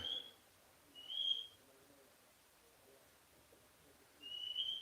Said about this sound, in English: Oh, there goes the bird.